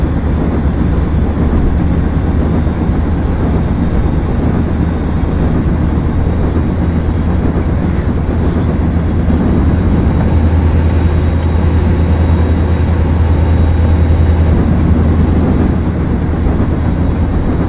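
Union Pacific 3985 steam locomotive with diesel helpers in the Open Rails simulator, climbing Tehachapi Pass toward Bakersfield, California: a steady, loud rumbling drone with a low engine hum holding throughout and swelling slightly near the end.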